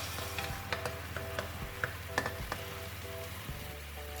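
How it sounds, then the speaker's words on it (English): Shiitake mushroom and Chinese cabbage fry in a pan with a soft, steady sizzle, punctuated by light taps and stirring scrapes at a low level. "Just let them cook for a couple of minutes, just to make sure that mushroom is well cooked"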